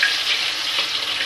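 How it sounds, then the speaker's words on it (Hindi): Chicken pieces frying in hot oil give a loud, steady, close sizzle with dense crackle throughout, with no talking. "अब हम इसमें चिकन डालते हैं इस तेल में"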